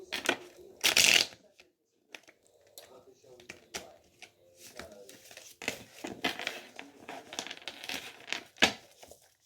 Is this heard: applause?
no